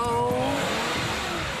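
A car engine revving briefly, a loud sustained rising roar with no talk over it.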